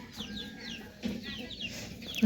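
A chicken clucks in a series of quick, close calls over a steady low background hum.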